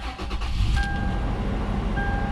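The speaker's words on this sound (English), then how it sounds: "I'm going to go ahead and start up the motor" A 2007 fourth-generation Toyota 4Runner engine cranks and catches, then settles into a steady close idle with a faint whine.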